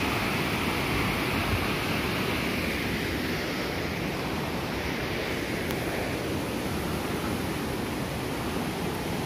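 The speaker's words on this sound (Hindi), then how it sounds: "छोटा सा झरना" Water from a small waterfall at Ashok Jhar in Jajpur, Odisha pours in a steady, dense rushing hiss that stays loud and unbroken throughout, with no voices.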